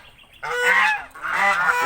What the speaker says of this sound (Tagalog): Yan mga gansa nila.